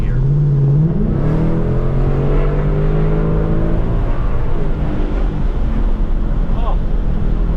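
A 2022 Ford Mustang GT with its sound tube deleted revs loudly up close, the engine note rising and settling in sustained pulls with steady wind noise in the background.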